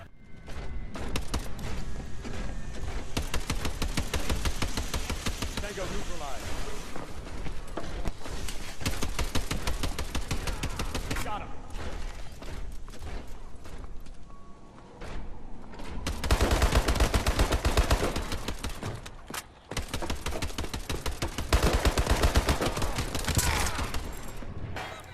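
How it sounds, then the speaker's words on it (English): Call of Duty: Advanced Warfare mech suit kill streak firing its machine gun in a dense, rapid stream of loud shots over a heavy mechanical engine rumble, nearly continuous for the whole span with a brief pause before bursting again. "that mech suit making that pew pew pew pew noise"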